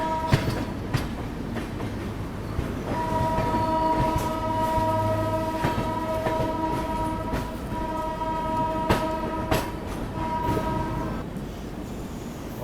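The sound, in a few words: Vande Bharat express train passing during train journey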